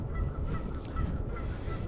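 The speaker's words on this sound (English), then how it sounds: "Hear the geese being loud over there." A flock of geese honking at a lake at sunset, their repeated calls carrying from a distance over a low, steady outdoor rumble, with no voices.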